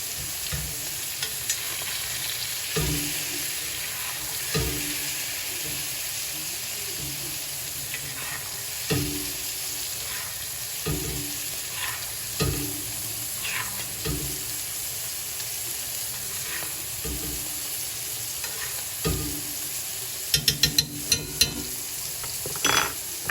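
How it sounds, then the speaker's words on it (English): Sirloin steak sears steadily in a cast iron pan with butter and garlic, a continuous close sizzle broken by periodic soft scrapes and clinks of basting, with a few sharper metallic taps near the end. "I'm going to add 2 knobs of butter and a couple of cloves of garlic that are cracked and peeled, and we're going to baste with that butter"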